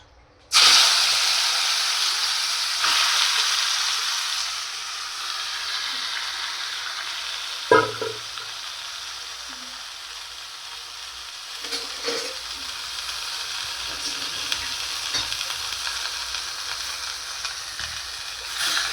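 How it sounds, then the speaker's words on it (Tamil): Marinated mixed chicken hits hot oil and fries with a loud, sudden burst of sizzling that settles into a steady hiss, broken by a few spoon scrapes and clinks as it is stirred and mashed, with no voices. "எண்ணெய் காஞ்சோன்னு நம்ம மிக்ஸ் பண்ணி வச்சுருக்கோம்ல அந்த சிக்கன் அதை வந்து இதில் மேஷ் பண்ணிக்கலாம்"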